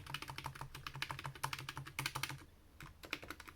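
Rapid typing on a Razer Huntsman keyboard fitted with MX Blue switches: a close, crisp run of clicky keystrokes in quick bursts, with a short pause before the tapping resumes.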